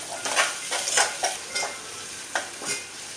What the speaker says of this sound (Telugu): క్యారెట్ ముక్కలు పచ్చివి కాబట్టి కొంచెం వేయించుకుందాం.